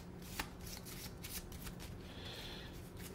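Playing cards for the board game Shibboleth shuffled in a steady riffling flurry, fairly quiet and close, with a few sharper snaps along the way.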